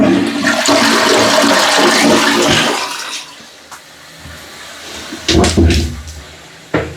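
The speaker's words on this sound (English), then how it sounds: "Alright, let's flush it." A toilet flushes loudly right after a clogged drain is cleared, a close rushing gush of water for about three seconds that drains away into quieter gurgles and a few sharp clunks.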